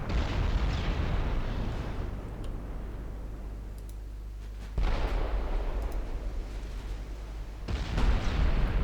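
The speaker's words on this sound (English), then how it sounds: "The 11-inch guns on the enemy battlecruisers actually penetrate me" Naval gunfire from 11-inch battlecruiser guns in Ultimate Admiral Dreadnoughts: deep, rumbling booms with long roaring tails, a few heavy blasts spaced seconds apart over a constant low background rumble, without speech.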